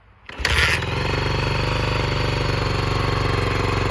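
A Honda XR400 motorcycle engine catches and settles into a loud, close idle, a rapid steady thumping with a rough low rumble that holds even throughout.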